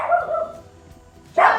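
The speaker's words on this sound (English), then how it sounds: "You're making my dog bark." A domestic dog barks indoors while children yell outside, giving two bursts of loud barking separated by a quieter stretch with faint background noise.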